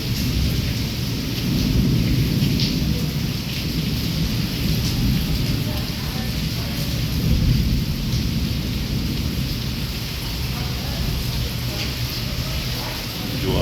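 A nonstop thunderstorm over Wankaner brings a dense, constant roar of heavy rain and wind, with low thunder rumbling beneath it.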